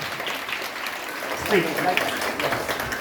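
Students applaud an elected student representative at a school election results announcement, a steady wash of clapping rising slightly mid-way, with a voice talking over it.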